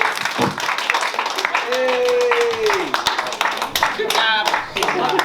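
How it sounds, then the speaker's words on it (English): Guests at a baby shower party clapping for a winner, scattered hand claps mixed with voices and cheering chatter, fairly close and lively throughout. "Can we give her a round of applause?"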